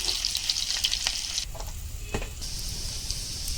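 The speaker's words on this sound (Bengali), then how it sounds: "এখন আমি পেঁয়াজ আর রসুন দিয়ে দিই।" Onion and garlic frying in hot oil for a Bengali vegetable pakora snack, giving a steady, close sizzle with a few brief stirring scrapes and pops, no one speaking.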